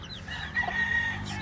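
Hens on a poultry farm where a pure Python Gray hen is kept for breeding, with a brief faint crow-like call and clucking low under steady farmyard background noise.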